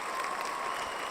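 A live show's audience claps in a brief, dense burst of applause at the opening, steady and even throughout with no voices on top.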